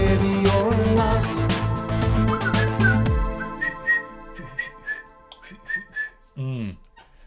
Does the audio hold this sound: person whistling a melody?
yes